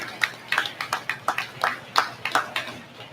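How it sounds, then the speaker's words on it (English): Scattered applause from a small audience at a county 4-H cattle show as exhibitors leave the ring, a handful of distinct, rhythmic nearby claps sounding separately rather than as a dense roar. "Let's give them a big round of applause as they exit the ring"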